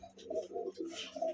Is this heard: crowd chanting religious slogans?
no